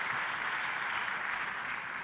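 A church congregation bursts into sustained, even applause in praise of God, a continuous crackling wash of many hands clapping together with no voices over it.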